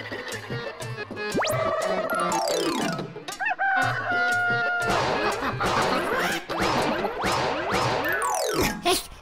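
Cartoon-style chickens clucking busily alongside rooster crowing, mixed with boings, crashes and sliding comic sound effects in a loud, dense animated soundtrack.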